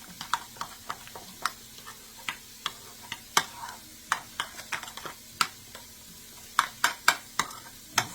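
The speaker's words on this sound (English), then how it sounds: "I'm just going to mix this all together" A spoon stirs and mixes spaghetti sauce ingredients together in a pan, sharp irregular clinks and scrapes at close range over a faint sizzle, with no talking.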